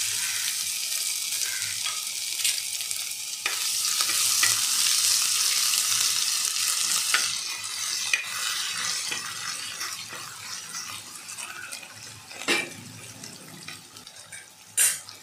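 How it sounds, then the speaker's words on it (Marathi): Garlic and ginger fry with whole spices in hot oil, a loud close sizzle that eases off over time, with occasional stirring scrapes and clinks. "याच्यामध्ये मी आता लसूण आणि अद्रक टाकत आहे।"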